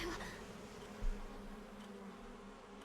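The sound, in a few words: swarm of insects buzzing in Honkai Star Rail video game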